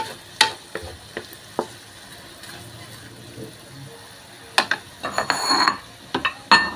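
Marinated meat sizzles and is stirred in a hot oiled pan, with scattered scraping and clacking of a utensil against the pan, sharp bursts of frying crackle rising toward the end, close and fairly loud.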